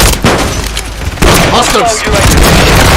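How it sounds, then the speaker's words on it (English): A stun grenade goes off in a first-person shooter hardpoint match: a sharp bang near the start and a heavier burst midway, mixed with game effects and brief radio-style callouts. "Stun grenade out."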